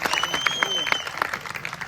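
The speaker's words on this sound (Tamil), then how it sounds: "திருநங்கைகளுக்காக ஒரே ஒரு கைத்தட்டல் மட்டும் கொடுத்தால் நன்முறையில இருக்கும்." Scattered, uneven clapping from an audience greets transgender performers, the individual claps crisp and fairly close, with a voice talking over them.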